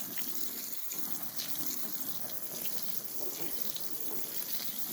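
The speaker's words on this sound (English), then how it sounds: "Just give it another little water so it can soak down into the compost." Parsley planted in compost is watered, a steady close gush and patter of water soaking into the soil, continuous and even throughout.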